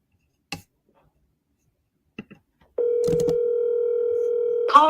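Several sparse clicks come from a telephone call, then a steady, unbroken electronic tone starts and holds for about two seconds before a short blip at the end.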